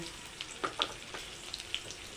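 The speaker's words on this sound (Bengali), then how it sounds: "পেঁয়াজ কাঁচা লঙ্কা দিচ্ছি" Onion and green chilli frying in a wok make a soft, quiet sizzle broken by a handful of brief sputtering crackles.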